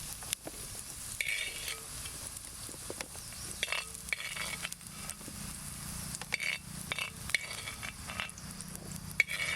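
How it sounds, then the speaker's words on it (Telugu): Nalleru (veld grape) stems sizzle and fry in a pan until golden for a chutney, with a steady close crackle of oil under scattered scrapes and clinks of a stirring spoon. "ఈ మరి దోరగా వేగినాక పక్కకు తీసుకోవాలి."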